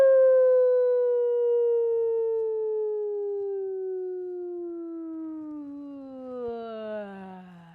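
A human voice imitates an ambulance or police siren as a vocal exercise, one long sustained tone gliding slowly downward from high to low, loud and alone, wavering slightly near the end.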